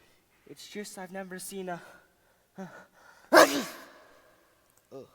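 A sharp, loud sneeze bursts out right after a man's brief spoken line and is followed by a trailing breath, with a short voice fragment near the end.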